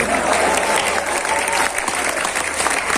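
An audience bursts into loud, dense applause that continues unbroken and close for the full few seconds, with a faint murmur of crowd voices underneath.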